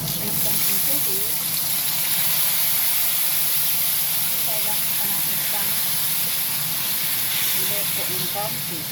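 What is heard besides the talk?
water added to hot pan of honey chicken wings, steaming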